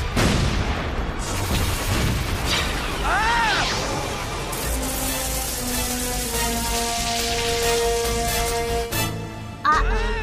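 A dense, loud battle scene from the animated Transformers Car Robots episode 14, with rumbling blasts, booms and whooshing laser-like sweeps, heavy layered effects throughout with no clear speech.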